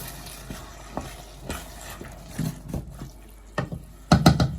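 A spoon stirring canned chopped tomatoes into chilli in a pan, giving soft wet scrapes and squelches in uneven strokes up close, with a louder clattering burst near the end.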